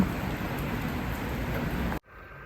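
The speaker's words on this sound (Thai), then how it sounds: "เย็นสบายเลยบรรยากาศฝนตก" Rain falls outdoors among plants and flowers as a steady, close hiss of drops for two seconds, then cuts off abruptly to a much quieter background.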